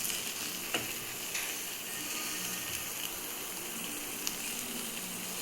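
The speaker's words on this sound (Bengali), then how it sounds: "এতটা শুকিয়ে গেছে, এরকম করে নাড়তে হবে।" Green banana peel paste sizzles softly in an oiled pan while being stirred, a quiet steady frying hiss broken by a few faint scraping clicks of the spatula.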